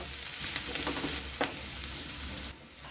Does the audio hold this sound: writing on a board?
no